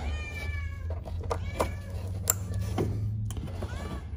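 A cat meows repeatedly nearby, several drawn-out, complaining cries over a low steady hum.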